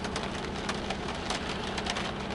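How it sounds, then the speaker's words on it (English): Steady rain patters densely on a car window, a close, constant drumming with scattered louder drops and a low rumble underneath. "it appears to be raining harder on the back of my car window than on the front one"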